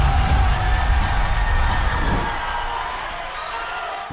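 A wrestling crowd cheers wildly, a loud dense roar of shouts and whoops that holds strong, then eases slightly before swelling again at the end.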